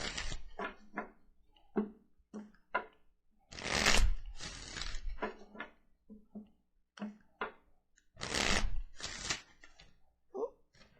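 Bursts of card shuffling come in irregular rounds, with riffles and quick taps between them, close and fairly quiet.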